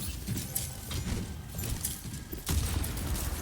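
Gunfire and headshot hits in a competitive Overwatch match, a dense clatter of game weapon shots and impacts layered over busy in-game effects, with a louder burst near the end.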